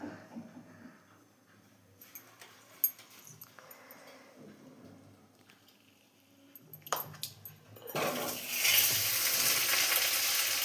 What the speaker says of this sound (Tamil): பாருங்க, நெய் காயுது.